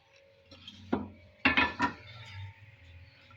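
Mawa going into a pan is marked by a few close metallic clinks and scrapes of a spoon against cookware, the clearest cluster coming mid-clip in an otherwise quiet kitchen.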